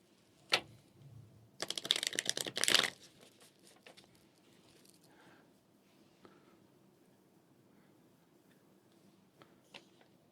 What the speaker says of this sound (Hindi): एक बार और करेंगे हम शफलिंग।